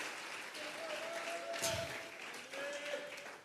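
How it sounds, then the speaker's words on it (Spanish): A church congregation claps during a Sunday service, a soft, fairly distant patter of applause under faint talk, with one sharper burst midway. "Vamos a regalarle ofrenda de palmas al Dios de la gloria."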